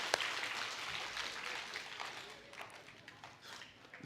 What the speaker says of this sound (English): I think we need claps here